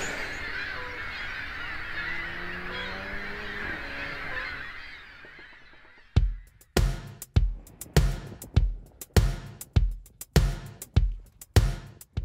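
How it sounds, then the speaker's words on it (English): A large flock of seagulls at a roost calls in a dense, distant wash of cries for several seconds, then gives way to a loud, close series of sharp, evenly spaced honking calls repeating roughly every half second. "so I pulled in to find this massive roost of seagulls."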